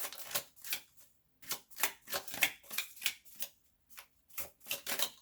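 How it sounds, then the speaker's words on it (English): A deck of tarot cards being shuffled by hand, producing repeated crisp riffling bursts separated by short pauses, close and fairly quiet with no talking. "Okay, shuffle it one more time."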